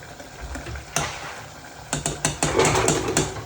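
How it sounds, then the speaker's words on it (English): A steady bubbling, hissing rumble of a pot of curry base on the boil, with a few sharp clinks and stirring knocks toward the end. "It's boiling away."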